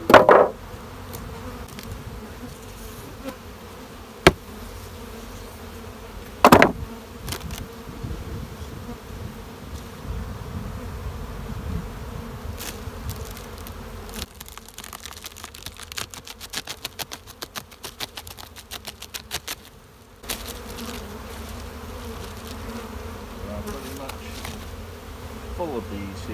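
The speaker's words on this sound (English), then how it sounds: "full of bees here" Honeybees buzz around open beehives during a quick hive inspection, a steady close drone with occasional louder passes near the microphone and a few sharp clicks and knocks from handling the hive.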